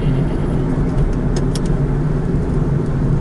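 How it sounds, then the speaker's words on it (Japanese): Steady low engine drone and road rumble inside a moving rented Mazda Demio on a holiday drive toward Shin-Yokohama, a constant close hum with no voices. "マツダのデミオですね。"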